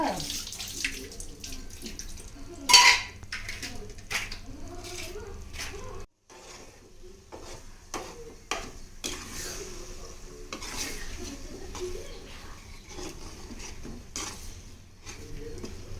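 Beaten eggs frying in a pan for egg rice, stirred with a spatula: soft continuous sizzle with repeated scraping and clinking strokes, close and moderate, one louder clatter early on.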